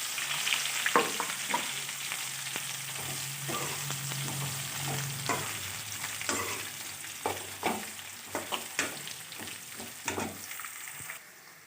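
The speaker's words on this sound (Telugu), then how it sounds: "ఉల్లిపాయలు వేసుకోవాలి." Onions are stirred and fried with chillies in a pan for egg curry, giving a continuous sizzle broken by repeated scraping strokes of the spoon, close and steady, with nobody speaking.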